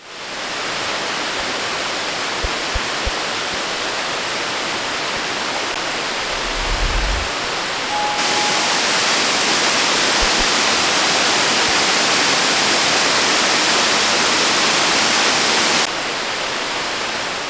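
Güzeldere waterfall, with water dropping about 120 metres in rainy weather, a loud continuous hissing roar that steps up in intensity midway and holds steady, with faint low thumps early on.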